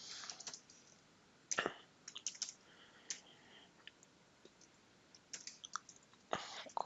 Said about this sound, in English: Let's type a message here.